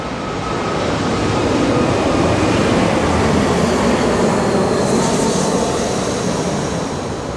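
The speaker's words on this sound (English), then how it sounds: "Here comes an airplane." An airplane roars steadily overhead at a beach resort on Koh Samui, Thailand, a broad loud rumble that holds for several seconds without fading.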